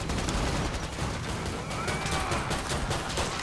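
Pistol fire in the Killing Floor 2 video game, a steady busy clatter of shots and game noise running continuously at close range with no voices.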